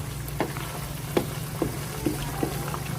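Chicken liver and gizzards frying in a pan with soy sauce, a continuous close sizzle with a low hum underneath and regular soft clacks like stirring every half second or so, no voices.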